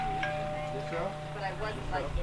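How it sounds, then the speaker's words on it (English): A soft electronic kitchen timer chime, like a doorbell, rings a few times in a room while people talk over it. "Whose doorbell is that? Oh, that means Timer."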